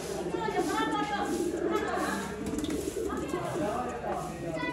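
Pigeons in a loft or coop, soft cooing and bird chatter close by, running under someone talking throughout.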